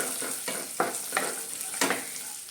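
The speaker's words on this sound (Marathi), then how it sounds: "त्या कढईमध्ये मनुके हे पटकन असे परतले जातात" Raisins being stirred and roasted in a kadhai while making dinkache ladoo give a soft, steady sizzle, with a few brief scraping stir strokes on top and no talking.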